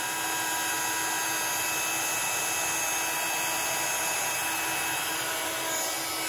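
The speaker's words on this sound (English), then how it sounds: "I'm going to grab in my heat gun. And we're just going to chase that embossing powder." A handheld heat gun blows hot air over embossing powder on a card background, giving a steady, loud, unbroken whooshing hum with no pauses.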